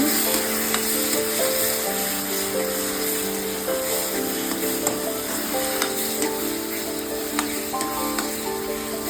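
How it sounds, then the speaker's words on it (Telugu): A spoon stirs potato tomato curry freshly dusted with chili powder in a sizzling pan, a close, steady frying hiss with light scraping under a faint tonal hum, no talking. "అన్నీ కలిపేస్తున్నాను మళ్ళీ"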